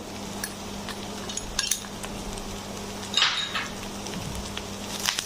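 Chopped green beans tumble into a cooking pan with fresh green chilli and black pepper, giving close clinks and scraping pan sounds, with a brief clatter midway and a low steady hum underneath.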